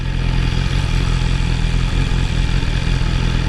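A BMW S1000R sport motorcycle ridden with quick shifter gear changes gives a loud, steady engine roar with wind rush, close and continuous throughout, with no clear individual shift breaks standing out.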